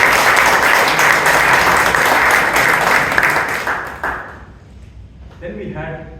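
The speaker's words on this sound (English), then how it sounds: "Let us give a loud applause to both." Loud applause from a Toastmasters meeting audience in Bangalore, dense and sustained for about four seconds before fading out, with a voice starting to speak near the end.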